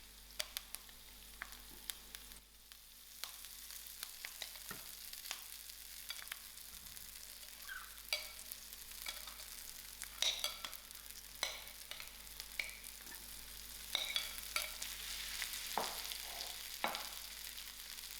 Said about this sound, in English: And then I'm going to add in my mashed potatoes.